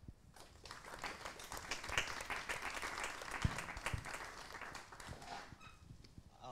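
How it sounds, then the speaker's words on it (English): Applause from a seated audience welcoming guests at a formal panel event, a steady wash of many hands clapping that swells, peaks and then tapers off toward the end. "Please welcome all the guests once again with your applause."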